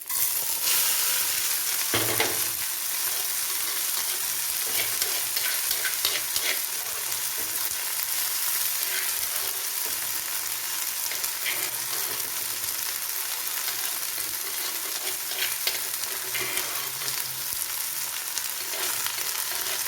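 Boiled ivy gourd and okra stir-frying in a pan with a loud, unbroken sizzle and crackle, and occasional stirring scrapes mixed in throughout. No one speaks.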